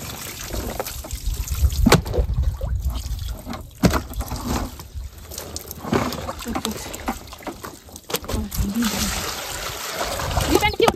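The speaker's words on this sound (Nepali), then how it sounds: "अब खुट्टामा पनि पानी हाल्नै पर्यो" Water splashes and trickles as it is poured over feet during an outdoor wash in a Baitadi village, with uneven splattering bursts over about eleven seconds while people talk nearby.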